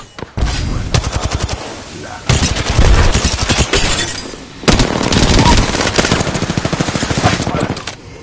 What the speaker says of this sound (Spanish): Me está disparando.